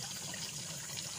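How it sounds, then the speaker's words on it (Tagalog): Spring water flows up from the ground beside a river on a farm lot, a soft continuous trickle and gurgle, faint and steady, heard alone. "tubig nandyan sa nanggagaling sa lupa maagos po siya"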